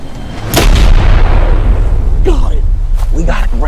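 A single loud rifle shot rings out outdoors during a trophy hunt, a sharp boom followed by a long rolling echo, with voices speaking afterward.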